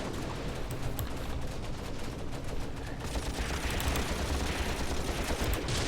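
Gunfire crackles across a German campaign battle on the Mius Front in Graviteam Tactics: steady, loud volleys of rifle and machine-gun shots blur into a dense, unbroken roar.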